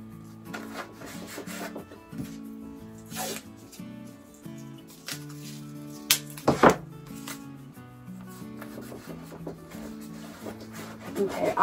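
Masking tape being rubbed down firmly onto an acrylic painting of geometric mountains, soft scratchy strokes repeating irregularly, with occasional sharper swipes over quiet background music.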